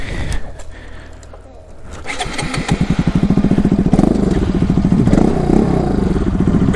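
A Bajaj Pulsar RS200 BS4 motorcycle engine fires up and settles into a loud, rapid rumbling idle with a few revs, close by.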